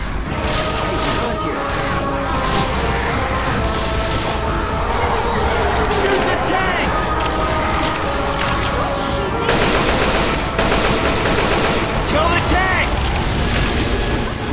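Rapid automatic gunfire and booming shots pour out continuously as zombies are mowed down in a shooter video game, dense and loud throughout with a voice talking over the battle.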